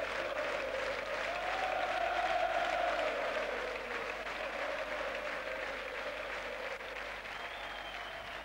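A large crowd in an arena at a women's handball final in Macedonia applauds continuously, a dense, sustained roar of clapping with a cheering swell in the middle, no speech over it.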